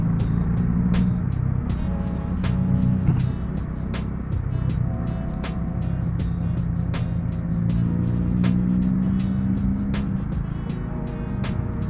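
Bajaj Dominar 400 motorcycle engine running nearby, a steady low throbbing rumble with a slight rise in revs, punctuated by regular sharp ticking clicks.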